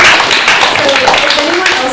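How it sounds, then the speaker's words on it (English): Dense applause from a podcast festival audience fills the space, mixed with voices and cheering. "You guys want to give her a round of applause?"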